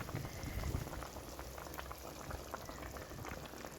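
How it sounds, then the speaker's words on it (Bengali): Fish curry with fennel paste simmering in a pot, a faint steady bubbling and popping that continues evenly throughout, quiet and close with no voices. "সব রকমের মাছ দিয়ে দিলাম, দিয়ে ফুটিয়ে নেব"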